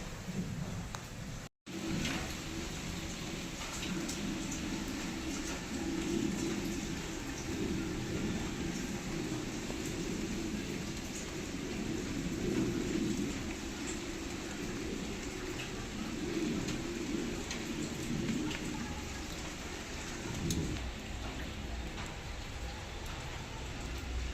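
Morning rain falling steadily outside a home, a soft, even patter that continues without a break, with faint distant sounds underneath.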